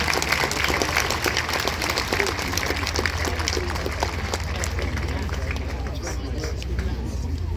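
Sustained applause from a large crowd at a tank show, dense and steady clapping throughout with a murmur of voices underneath.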